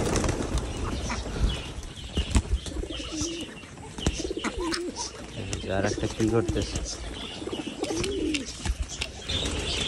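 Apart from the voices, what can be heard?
house pigeons cooing while being fed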